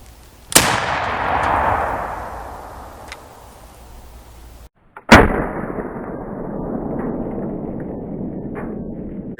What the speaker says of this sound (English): 54 caliber lead ball fired out of our cap lock muzzleloader.